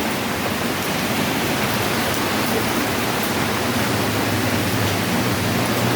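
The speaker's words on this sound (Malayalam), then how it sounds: "നല്ല മഴയുണ്ട്, രാവിലെ തന്നെ നല്ല മഴയുണ്ട്" Heavy morning rain pours down steadily, a dense even hiss with no pauses or voices.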